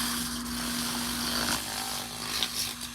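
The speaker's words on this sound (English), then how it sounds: "It's a handheld, device that I can use to clean my rings up." A small handheld rotary ring-cleaning tool whirs steadily with a constant high-pitched hum and buzzing, running close by without pause.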